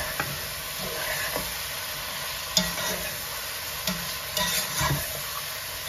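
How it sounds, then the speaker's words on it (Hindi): Fried okra being stirred and mixed in a pan with a spoon, soft continuous sizzle with scattered scraping clinks and a few sharper knocks, close and moderately quiet, no talking. "अब हम इसके अंदर जो हमने भिंडियां फ्राई की थी वो डालते हैं। और इन्हें मिक्स कर लेते हैं।"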